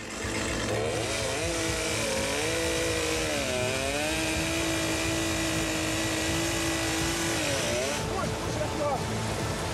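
A chainsaw engine drones loudly and close while cutting fallen trees along a river in the Amazon jungle, its pitch wavering as it revs and bogs down, running continuously throughout.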